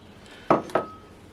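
Two quick metallic clanks of a pan and saucepan being handled on a kitchen stove, close and sharp, the second leaving a brief ringing tone.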